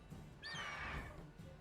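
A horse in the video game Witcher 3 gives a single shrill, wavering neigh of about half a second, clear and fairly close over faint background noise.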